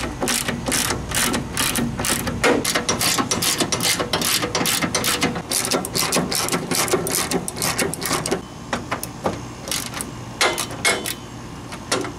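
Fast, continuous clicking of a ratchet wrench backing out the front fender bolts on a Jeep Wrangler YJ, loud and close, with a brief pause near the end before the ratcheting resumes.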